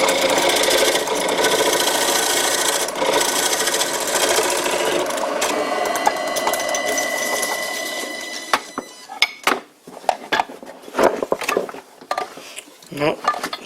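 A wood lathe turns a bowl while a home-made bowl gouge rides the bevel, making a steady, close, whirring scrape. The cutting then breaks into choppy intermittent bursts, with a person speaking partway through.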